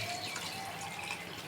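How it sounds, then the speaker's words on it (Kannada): Hot water being poured, a faint continuous trickling and splashing of liquid heard close and alone at low level. "ಈ ಥರ ಬಿಸಿ ಬಿಸಿ ನೀರು ಹಾಕೋಣ"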